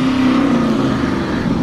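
A brand-new car with a stock exhaust revs its engine, a loud, close, steady throaty drone whose pitch sags slightly as the revs ease off, with no talk over it.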